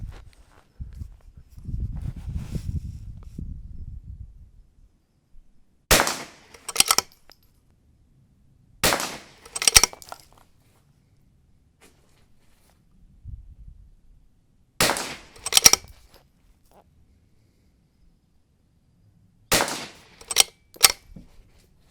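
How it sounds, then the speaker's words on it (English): A CZ 455 rimfire rifle fires at a KYL steel rack about 25 yards off: sharp single cracks, each followed by a quick metallic ring, come in small spaced bursts with quiet gaps and low rustling between. "shooting this KYL rack with the CZ455 is pretty simple"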